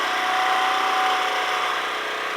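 A small engine running, a dense, loud, steady mechanical roar close up throughout without any break, no voices over it.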